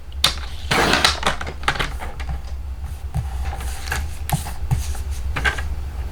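Card stock mat being cut down to a 4 by 5 1/4 inch size for a handmade greeting card, a run of close, crisp cutting and sliding strokes with sharp clicks over a steady low hum.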